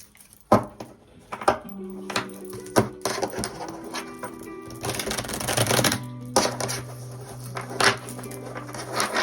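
Cards are shuffled and handled during a tarot-style reading, with a series of crisp riffling flutters and soft taps at close range alongside faint background tones.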